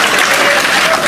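A congregation claps during a Christmas sermon, a loud, dense patter of applause filling the short moment without pause.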